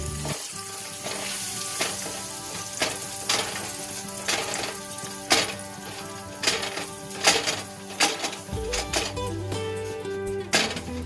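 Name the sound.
flour being fried in a pan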